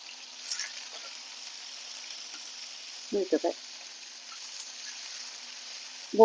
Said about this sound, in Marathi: आपण इथं बोंबील इथे तळून घेणार आहे